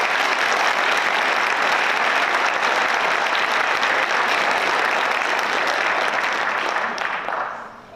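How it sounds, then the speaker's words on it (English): High school honor society induction audience applauding organizers, a loud, dense round of clapping sustained for several seconds before tapering off quickly at the end. "Please join me in thanking them with a round of applause."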